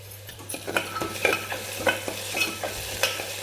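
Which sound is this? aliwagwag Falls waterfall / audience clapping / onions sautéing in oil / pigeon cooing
onions sautéing in oil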